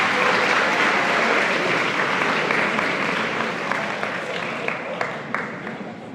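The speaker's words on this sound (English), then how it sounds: "So give a round of applause to the members of our golf team," Sustained applause from a crowd at a school athletics awards ceremony honouring the golf team, a dense, steady wash of many hands clapping that eases slightly toward the end, with no voices on top.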